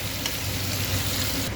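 Chicken pieces frying in hot oil, a dense, continuous crackling sizzle that stays loud and even throughout with no voices.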